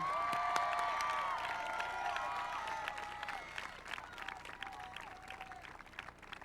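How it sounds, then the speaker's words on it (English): Graduation audience at a high school ceremony breaks into applause with cheers and whoops, a broad crowd of clapping that is strongest at first and gradually thins out, heard from a distance. "Please join me in a round of applause for these 4 outstanding young people."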